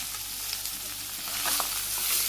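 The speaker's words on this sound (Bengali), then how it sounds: "মাছ ভাজি হয়ে গেছে" Fish frying in a pan in a Bangladeshi village kitchen gives a steady, fairly close sizzle with faint spattering, growing slightly louder toward the end.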